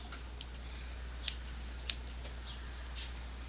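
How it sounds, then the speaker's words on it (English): Scissors snip through yarn loops while a gnome beard is made, a few sharp, quiet clicks spaced irregularly over a low steady hum, close up, no talk. "fold it in half and cut the loops on the other end"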